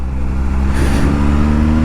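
A Triumph Speed Triple RS motorcycle engine runs loud and close while being ridden, a steady low rumble with a brief rise in pitch partway through.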